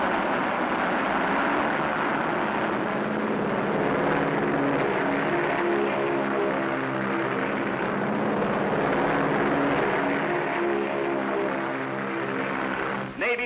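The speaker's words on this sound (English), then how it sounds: "Navy planes roared from the decks of our carriers, Army bombers, Marines, thundered destruction over a 300-mile battle area." Navy carrier planes and Army bombers roar steadily overhead during a wartime battle, with a loud, continuous engine drone that swells slightly and holds throughout.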